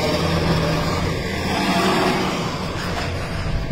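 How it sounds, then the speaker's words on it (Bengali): Road traffic rumbles steadily and close by as cars pass in a continuous, loud wash of engine and tyre noise with no clear breaks. "রাস্তায় গাড়ি বেশি জন্য যাওয়া যাচ্ছে না।"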